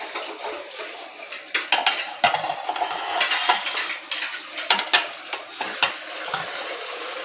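Potatoes fry in hot oil with a steady sizzle, punctuated by the scrape and clatter of a utensil stirring in the pan, with no talking.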